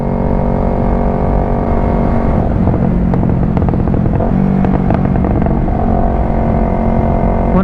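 Yamaha YZF-R3 sport motorcycle ridden at a steady cruise on a long open road trip, a continuous close engine drone with rolling wind noise and brief clattering textures, no one talking.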